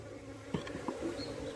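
Honey bees buzz around a hive with a steady low drone, a few nearer insects passing by with brief louder swells, and no talking.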